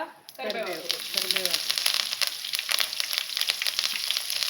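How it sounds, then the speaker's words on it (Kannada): Mustard seeds spluttering in hot oil for a tempering with curry leaves and garlic: a dense, steady sizzle peppered with sharp crackling pops throughout, with a voice briefly audible near the start. "ಸಾಸಿವೆ ಪಟಪಟ ಆದಾಗ"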